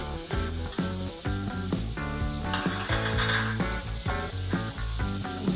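Onions fry in a hot pan with a loud, dense crackling sizzle, punctuated by rhythmic utensil taps and stirring clatter throughout.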